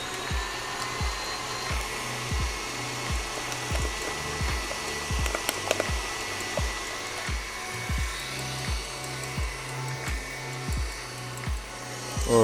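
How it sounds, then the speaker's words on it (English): An electric mixer whisks egg whites to soft peaks for a double-baked cheese souffle, a loud continuous motor whir with rhythmic beater pulses against the bowl that runs steadily throughout, with no talking over it. "it's really important, before I turn this on, that we don't whisk them too much"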